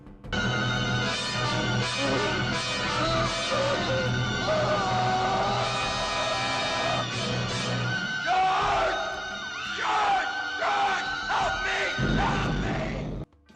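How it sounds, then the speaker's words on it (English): A knight in a film screams in agony, loud and drawn out, amid clashing crowd yells and shouting voices, then cuts off abruptly. "That screaming knight really does sound like he's dying and getting his soul ripped out of him"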